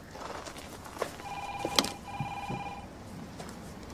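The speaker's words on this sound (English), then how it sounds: "I'll try ringing him again." A telephone rings with two electronic trilling bursts of steady tone separated by a short gap, set amid faint room noise and a few soft knocks.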